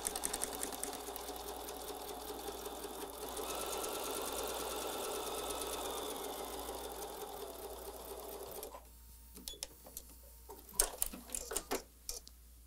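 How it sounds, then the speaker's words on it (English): A sewing machine stitches quilt pieces in a steady, fast mechanical whir for several seconds, then stops, followed by scattered light clicks and handling noises, close and fairly quiet. "So we will go and sew that now."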